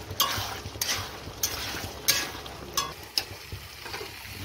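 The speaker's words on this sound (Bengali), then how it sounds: "এবার আমি দিয়ে দিব পনিরটাকে একটু এর সাথে ভাজবো" Paneer fries in a pan, with soft sizzling and several rhythmic scraping strokes of a spatula, quiet and close with no talking.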